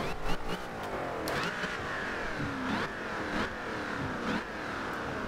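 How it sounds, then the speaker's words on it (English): A 2005 Ford GT in the video game Forza Horizon 2 revs and shifts in a steady racing drone, pitch sweeping up and down repeatedly, with a supercharger whine riding over the engine. "now you can definitely hear that supercharger from the front"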